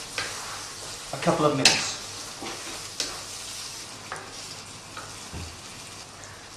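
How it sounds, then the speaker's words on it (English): Tikka masala powder stirred through in a hot pan, crackling and sizzling steadily up close, with a few louder scraping stirs near the start and a brief voice speaking. "we're going to add a couple of heaped tablespoons of Tikka Masala powder, and we're going to stir that through to cook that out"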